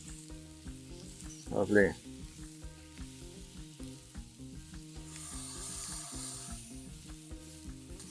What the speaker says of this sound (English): Now, you want to fry that off a little bit so that it becomes a little bit sticky